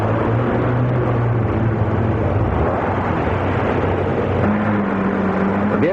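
Amphibious military vehicle in four-wheel drive pushing through surf with the accelerator held down; a steady, loud engine drone with a low hum that drops away midway, then returns at a higher steady pitch.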